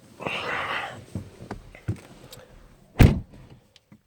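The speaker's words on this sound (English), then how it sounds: "Love how that window goes up to get the seal when it closes, goes down when it opens" A 2018 Mustang GT door thuds shut with a solid, close slam, preceded by faint mechanical whirring and small clicks of the window motor as the frameless glass rises to seal.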